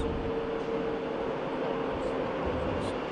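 Regional train with a locomotive hauling double-decker coaches arriving at München Hbf, heard as a steady, fairly near rumble with a sustained tonal whine over continuous rolling noise, no speech.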